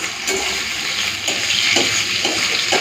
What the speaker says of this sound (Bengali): এই যে চিংড়ি আর রসুন পুরো লাল লাল করে ভেজে নিয়েছি